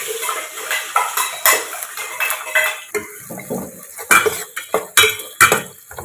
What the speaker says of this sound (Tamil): இப்போ அடுத்தது நாம் கட் பண்ணி வச்ச ஆனியன் சேர்த்துக்கலாம்